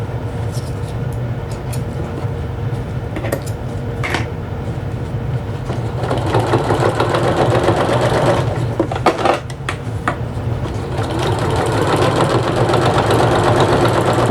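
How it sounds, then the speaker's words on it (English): A sewing machine runs a double row of stitching along a tote bag seam, a steady mechanical whir that grows louder and busier partway through, with a few brief pauses and light clicks. "let's continue to sew. So this will be my double row stitching"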